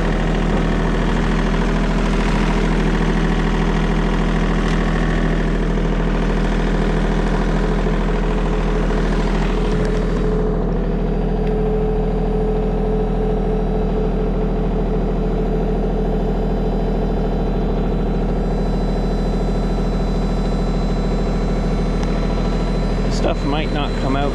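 A John Deere 2032R compact tractor's diesel engine idles nearby, a steady even rumble that runs throughout with a slight change in tone partway, and a person talks over it.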